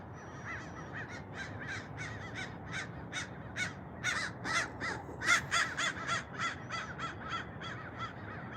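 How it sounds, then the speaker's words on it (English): Crows caw repeatedly in a loose rhythm on a night during the Palisades wildfire in Los Angeles, calls fairly close and overlapping, some louder bursts midway, over a steady low background rumble with no talking. "There's all the crows."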